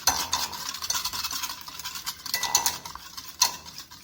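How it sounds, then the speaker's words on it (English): A spoon briskly stirs vanilla essence into eggless chocolate cake batter in a bowl, wet scraping strokes repeating rhythmically with a few sharper clinks against the vessel. "vanilla essence and mix it"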